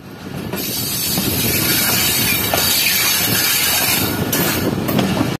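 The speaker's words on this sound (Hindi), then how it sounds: "कोटरी आउटर पर हमारी मुलाकात हुई एक फ्रेट ट्रेन के साथ जो कि कोटरी से निकल रही थी।" A freight train rolls past close by near Kotri Junction, a loud continuous rumble with squealing wheels and rhythmic clatter of wagons, cutting off abruptly at the end.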